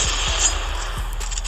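Shots from a Barrett M82A1 sniper rifle in a video game, heard as a few sharp, loud cracking reports in quick succession over a dense background of game ambience.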